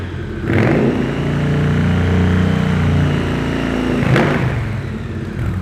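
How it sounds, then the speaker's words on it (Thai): A 2019 Triumph Bonneville T100 motorcycle engine idles steadily, then two sharp throttle blips rise and fall quickly, close and loud, with no speech. "รอบเครื่องยนต์นิ่งนะครับไม่มีสะดุดเลยนะครับ"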